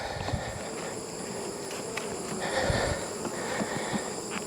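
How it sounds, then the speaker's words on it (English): Honey bees around an open hive on a farm, making a continuous, soft, even hum of many wings with a few faint louder passes and no talking. "The bees are quite calm."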